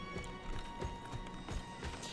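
A horse's hooves clip-clop at a steady trotting rhythm in the game Diablo 4, even, close thuds repeating over a low ambient game backdrop.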